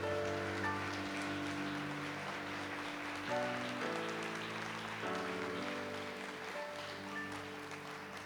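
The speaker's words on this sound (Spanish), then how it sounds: "Dale un fuerte aplauso a mi Dios" Church congregation applauding during a sermon, a steady wash of clapping running the whole time beneath sustained music tones, fairly faint and distant.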